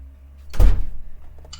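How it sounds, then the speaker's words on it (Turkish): A door is closed with a single solid thunk, close and fairly loud, with no talk over it. "Kapıyı kapattım."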